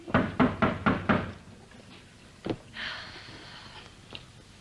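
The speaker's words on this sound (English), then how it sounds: "Oh, let them knock." Children knock on a house door in a run of five quick, sharp knocks, followed by quieter scattered bumps and rustling indoors, with no talking.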